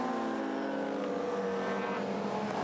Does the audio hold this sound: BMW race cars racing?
yes